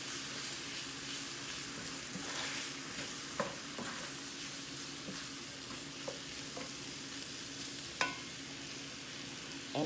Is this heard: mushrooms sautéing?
yes